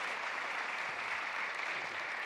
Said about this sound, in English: Why don't we just give another round of applause to our panelists?